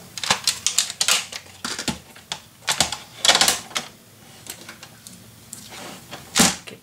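Scoring tool pressed and dragged along paper on a scoring board while making a Graphic 45 gatefold mini album, giving a series of sharp, uneven clicks and scraping strokes with brief pauses between them, close by.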